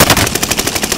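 Rapid automatic gunfire in the Warzone video game, a fast, even burst of sharp loud shots lasting about a second, close and dominant.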